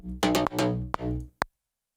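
Synthesized slap house bass line played as a bouncy run of short, punchy, deep notes with bright harmonic bite, loud and upfront, stopping abruptly after about a second and a half into silence.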